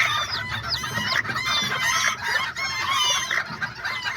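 A hen clucks among her newly hatched chicks, fathered by an Azteca rooster, with a steady stream of high, busy chirping and peeping close by and no voices.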